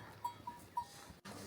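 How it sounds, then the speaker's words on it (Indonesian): Goats at a hotel in Manang, Nepal, giving three short, nasal bleats spaced a fraction of a second apart at moderate distance, over a low outdoor background with no talk. "Lihat, ini banyak kambing."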